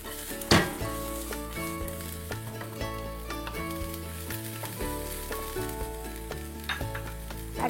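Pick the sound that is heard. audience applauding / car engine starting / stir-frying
stir-frying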